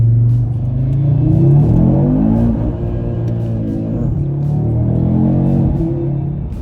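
A 2025 Audi RS3 Carbon Edition engine, in manual mode at full throttle, revs hard and loud up to the rev limiter, holding a droning five-cylinder note that bounces and wavers there, close and alone.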